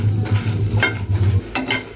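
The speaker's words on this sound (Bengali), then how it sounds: "আর কিছু কাঁচা মরিচও ভেজে নিব" Whole green chilies with their stems sizzle in hot oil in a pan, with a low hum beneath the crackle for the first part and a few sharp scraping clinks from stirring.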